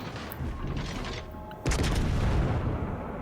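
Naval gunfire from the Colombo cruiser in World of Warships Legends, a dense roar of shells and booms that swells sharply halfway through, loud and continuous in the game's battle mix.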